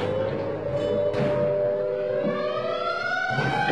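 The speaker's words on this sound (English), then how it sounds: "the banshee wail of the siren echoes the warning" A 1958 American civil defense air raid siren wails in long, slowly rising and falling tones, loud and continuous, with a broad rumbling background.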